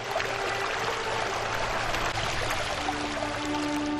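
Rushing rapids of a stream flowing past snowy rocks at Moranbong in winter, a steady, dense broadband wash of water that stays loud and even throughout with no pauses or voices.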